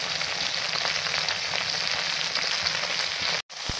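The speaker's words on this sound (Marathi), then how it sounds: "आणि मध्यम आचेवर भाजी शिजू द्यावी." Stuffed masala okra sizzles and fries steadily in a kadhai over medium heat with fresh coriander, a loud, even crackle that cuts out briefly near the end.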